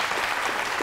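Applause from a studio audience for a school student contestant on a Georgian quiz show, a dense steady wash of many hands clapping, loud and close, with no speech over it.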